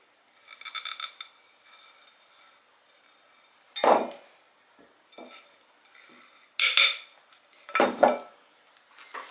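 Dessert batter is stirred by hand in a bowl before mixing with a mixer, heard as a few separate bursts of spoon scraping and clinking against the bowl, with quiet gaps between them.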